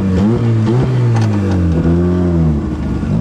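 A bridgeport-ported turbo Mazda RX-7 rotary engine revs loudly while driving, its pitch climbing and dropping through several throttle blips and gear changes, close and dominant, with no voices.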